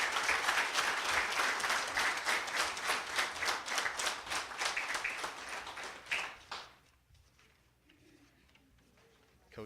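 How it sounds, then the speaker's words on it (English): Audience at a school board meeting breaks into lively applause, dense rhythmic clapping for about six seconds that tapers off into a quiet room with a few scattered claps. "let's give them a round of applause"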